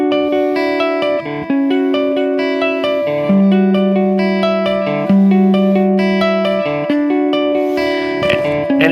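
Guitar playing the verse of a song, a bright, slightly driven repeating arpeggiated riff with shifting bass notes, steady and close, no talking.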